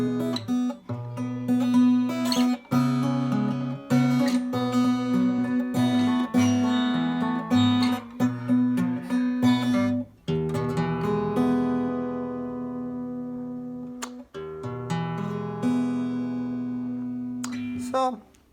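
Guitar played after drifting out of tune, with a steady strummed progression of chords ringing with sour, clashing overtones, loud and close, continuing with short pauses and sharp strums throughout.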